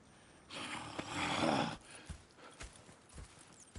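Horse hooves clip-clopping in Red Dead Redemption 2, a soft rising rush of movement followed by scattered, fairly faint hoof clops at an uneven pace.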